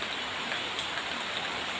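Steady, dense rain falls at home in Yasothon province, Thailand, a close, even hiss of drops on surfaces with no pauses and no voices throughout.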